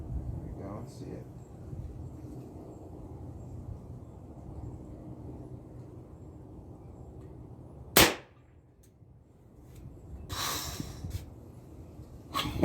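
An AEA Defender air pistol fires once, a sharp, loud crack cutting through steady background hum, followed by quieter settling noise and a brief burst of rustling handling sound.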